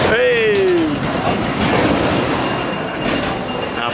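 Roller coaster train of the Beast at Kings Island rolling on the track, with a loud rising wheel squeal at the start, then a steady rumbling clatter throughout, and voices faintly underneath.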